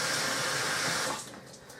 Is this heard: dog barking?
no